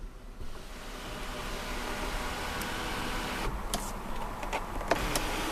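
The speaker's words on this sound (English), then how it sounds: "a fully adjustable power tilting and sliding sunroof" The power tilting and sliding sunroof of a 2014 Nissan Pathfinder Platinum 4WD moves with a steady, quiet electric whir inside the cabin, followed by a few soft clicks near the end.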